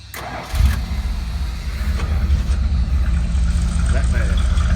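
A 1987 Dodge D100 pickup with Cherry Bomb mufflers cranks briefly and fires up, the exhaust catching with a loud burst and then settling into a steady, rumbling idle close by.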